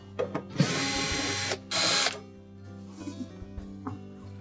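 Screws being backed out of the rear access panel of an Amana refrigerator, with two bursts of a powered driver whirring, the second shorter and louder, followed by faint clicks and handling noise.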